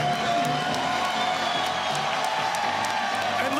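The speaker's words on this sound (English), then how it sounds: "listen to the crowd respond to what these two awesome athletes have done for the jiu-jitsu community" Crowd at a jiu-jitsu event, the Craig Jones Invitational, cheering and applauding steadily through the whole stretch: a dense, sustained wash of clapping and whoops, loud and continuous, with talk mixed in.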